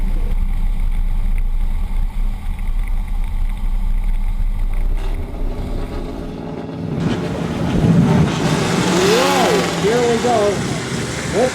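Vintage Duesenberg racing cars, one of them a supercharged 320-horsepower machine, roar past in an exhibition of speed: a steady loud engine drone rises into a rushing pass with a whining, shifting pitch, with voices faintly under it.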